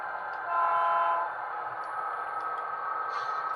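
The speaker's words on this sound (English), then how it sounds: "That loco is still creeping his way through there." An HO scale model train locomotive creeping along a shelf layout: a steady, even mechanical whine and hum that runs without a break at moderate loudness, swelling slightly early on, with no talking.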